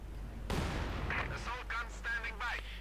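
Panzer tank cannons fire in a Company of Heroes 2 battle: one sharp close blast is followed by a rumbling tail, while a commentator talks over the game sound.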